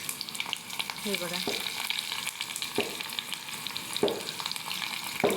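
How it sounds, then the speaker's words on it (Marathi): Onion and curry leaves sizzle in hot oil for a cauliflower dish, a steady crackling hiss with a few louder stirring scrapes, heard close up while a voice speaks briefly. "आत्ता कांदा टाकत आहे. पहिला कढीपत्ता टाकला आहे."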